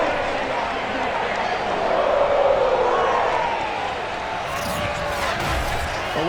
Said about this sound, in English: The enthusiasm of this Cincinnati crowd in full effect a moment ago